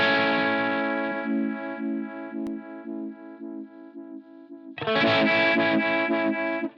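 Distorted electric guitar through a Shin-ei Uni-Vibe model on a Line 6 Helix throbs with a medium-speed pulsing sweep, a long held chord decaying before a brighter, louder strummed chord enters near the end, with no voices.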